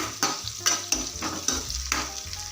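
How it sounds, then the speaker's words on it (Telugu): Crushed pepper and curry leaves are stirred into onions frying in oil, a spoon scraping the pan in steady repeated strokes over a continuous close sizzle. "కొంచెం లైట్గా దంచుకున్న మిరియాలు అలాగే కొంచెం కరివేపాకు వేసుకొని ఒకసారి బాగా కలిపేసుకోవాలి"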